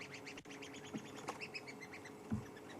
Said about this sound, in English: That tweeting you can hear above us is a whole group of red-billed buffalo weavers.